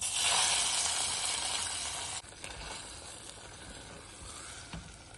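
Hot fried tempering poured into sweet kalkandu pongal gives a loud, steady sizzle that drops abruptly and continues as a softer crackle with occasional light clinks.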